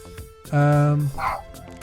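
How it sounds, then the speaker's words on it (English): A dog barks once, loud and close, during an indoor interview, followed by a short whimper, with a voice speaking briefly before and after. "Your dog wants to be part of the interview."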